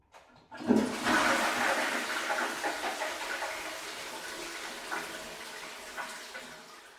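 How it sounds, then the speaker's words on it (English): A toilet flushes with a sudden gushing rush that swells quickly, then slowly drains and fades over several seconds, heard alone at moderate volume. "But what happens after you flush the toilet?"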